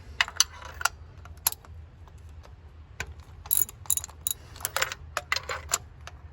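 A ratchet and socket work loose the spark plugs on a Mazda MX-5 Miata engine, giving scattered sharp metallic clicks in quick bursts over a low hum, close and clear.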